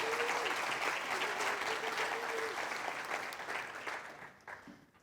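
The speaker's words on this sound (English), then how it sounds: "Another round of applause." A conference audience gives a round of applause after a keynote, full at first and then thinning and fading out toward the end, with a faint voice faintly heard underneath.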